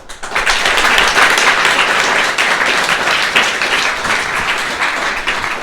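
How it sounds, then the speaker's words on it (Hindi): An audience of 10th-class students at a topper interview event claps for themselves, loud, dense, even applause that holds steady for several seconds with no talk. "एक बार अपने लिए जोरदार तालियां बजाए आप लोग"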